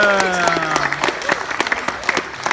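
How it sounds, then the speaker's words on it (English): Wedding guests break into loud, close applause and scattered claps, with a sustained musical tone and some voices heard at the start. "Let's give Rachel and Nathan another round of applause."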